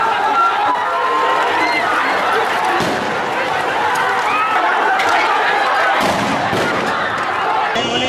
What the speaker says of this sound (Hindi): भारी भीड़ सड़कों पर निकल आई, प्रदर्शन करने लगी